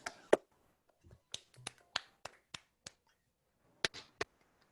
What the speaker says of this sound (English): So you can unmute yourself and clap.